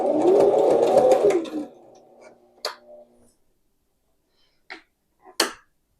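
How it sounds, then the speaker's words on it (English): A sewing machine runs in a fast, loud burst of stitching at a rope placemat with a little back stitching. It stops after about two seconds, followed by a few sharp clicks and knocks near the machine. "So we're going to start that now, and don't pull on this. Just let it guide itself through there. We'll do a little back stitching."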